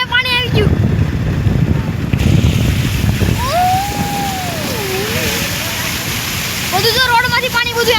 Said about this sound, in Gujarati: રોડમાં પાણી એવું બહુ પાણી ભરાઈ ગયું